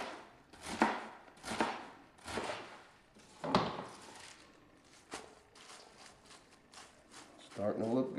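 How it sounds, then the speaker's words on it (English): Knife chopping Caesar salad ingredients into bite-sized pieces on a board, several sharp cuts at a steady rhythm, close and moderately loud, with a voice talking between them. "I like to cut it into bite-sized pieces."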